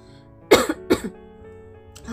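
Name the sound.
cough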